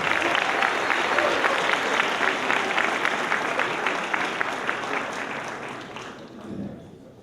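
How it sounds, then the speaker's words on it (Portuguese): Audience applause rings out after a speaker is introduced at a lecture, steady and dense clapping from a crowd that fades toward the end. "Salve de palmas!"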